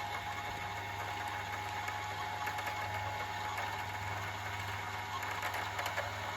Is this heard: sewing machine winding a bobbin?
yes